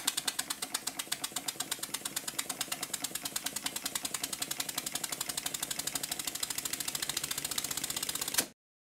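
A Stuart model steam engine running after oiling, chuffing in a fast, steady, even rhythm of crisp mechanical beats, close and alone, before stopping abruptly at the end.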